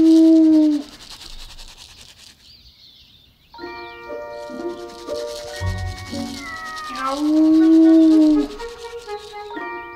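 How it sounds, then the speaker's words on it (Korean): Stray cats meow loudly and close by, in several drawn-out, wavering calls that come one after another, with some tonal background sound between them. "길고양이들이"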